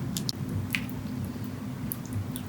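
Lard and peanut oil are worked into a well of flour for Shanghai savory mooncake dough, making soft, quiet squelches and small wet clicks over a low steady hum.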